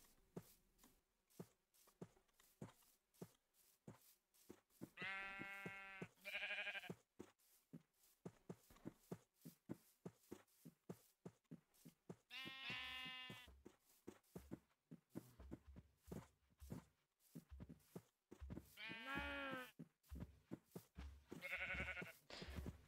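Minecraft sheep give several short, buzzy bleats spread across the stretch, some paired in quick succession, over a busy bed of steady rhythmic in-game ticking and stepping sounds.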